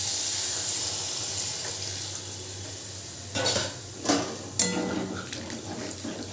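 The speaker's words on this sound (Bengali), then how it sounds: "পরিমাণ মতো জল দিয়ে খুব ভালো করে মিশিয়ে নিতে হবে" Soybean curry is stirred with water in a pan over a high flame: a steady background hiss with a few clinking scrapes of a utensil against the pan near the end.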